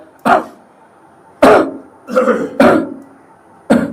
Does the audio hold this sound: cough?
yes